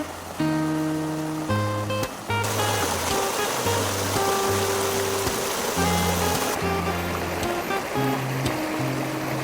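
A river stream rushes with a steady broadband wash of flowing water, partly masked by melodic background music playing over it.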